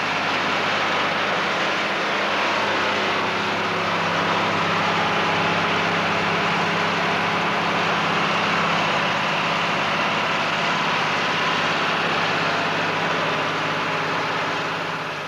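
An International Harvester 1255 four-wheel-drive farm tractor idles steadily, a low continuous diesel drone heard close and unbroken throughout.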